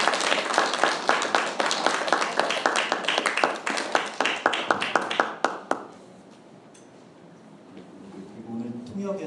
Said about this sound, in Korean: 이 두 분을 박수로